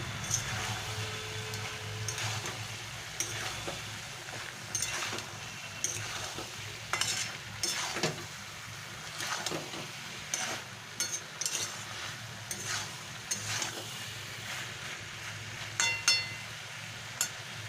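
Papaya and potato curry with cumin powder stirred in a frying pan, soft sizzle running throughout beneath irregular scraping and occasional clinks of a spoon against the pan.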